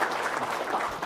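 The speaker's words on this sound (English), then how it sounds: "a round of applause." Brief burst of audience applause at a monetary policy statement event, dense and steady clapping filling the whole moment at moderate volume.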